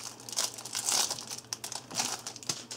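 A booster pack for the Berserk collectible card game, Storm of Elements set, being torn open: close, crisp crinkling and tearing of the foil wrapper in irregular bursts, with no talking.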